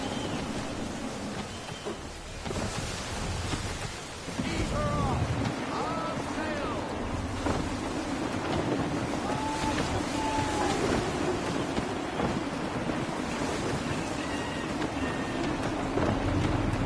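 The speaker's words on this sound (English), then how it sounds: "Wind looks to be shifting. Stay alert, Connor. Gusty winds can be difficult to manage." Gusty wind sweeps steadily across open sea while a sailing ship rolls on the water in Assassin's Creed III, a broad continuous roar with faint tonal whistles drifting through it.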